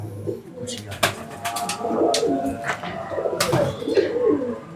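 Low pigeon coos repeat through the clip, mixed with clicks, scuffs and a voice murmuring in the background, among a grey pigeon of the Surkh Cheena breed.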